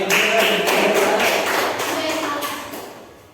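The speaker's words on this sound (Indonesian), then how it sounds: "Tepuk tangan untuk kita semua" Students in a classroom break into applause, a dense patter of hand claps with a few distinct rhythmic beats, loud at first and gradually fading over a few seconds.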